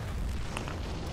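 A mortar shell explodes in a video game as a dense, steady roar of blast noise with no pause, lasting about a second.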